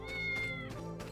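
A cat meows once, a clear drawn-out cry, close and fairly quiet over a faint background.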